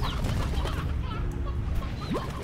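Rock chickens in the video game Slime Rancher cluck in short, scattered bursts over a steady game background, with no talk.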